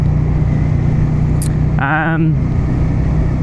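A 2023 Suzuki SV650 motorcycle rides along with a steady, loud engine drone and wind rush throughout, a brief higher-pitched tone and a short warbling chirp passing over the constant hum.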